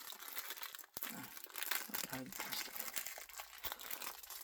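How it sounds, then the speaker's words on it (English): Plastic shrink wrap is crinkled and torn off a DVD case up close, with busy crackling and rustling throughout while a voice talks faintly underneath. "Take all this plastic off, because we don't want that, do we?"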